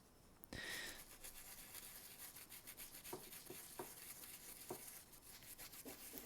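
Brush scrubbing a dirty PS2 controller with isopropyl alcohol, a continuous close rubbing and rasping with a few sharper scratchy strokes, no talking.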